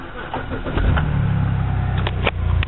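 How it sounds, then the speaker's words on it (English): A car engine, started by push-button, cranks and catches, settling into a low, steady idle rumble close by, with a short click near the end. "then you just hit the engine start button, which is right there"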